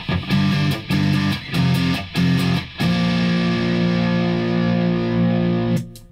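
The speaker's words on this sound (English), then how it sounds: "Then we can try a rat type distortion." Distorted electric guitar from a Squier Custom Nashville Stratocaster on its middle pickup through a RAT-style distortion pedal: four short chugging bursts, then a long sustained ringing chord that cuts off near the end, loud and alone.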